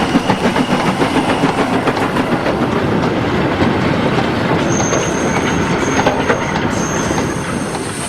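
Steam locomotive No. 49, RSH 7098 of 1943, works on the Tanfield Railway. Loud, close rhythmic chuffing and clanking rolling stock fill the clip, with a thin wheel squeal near the end.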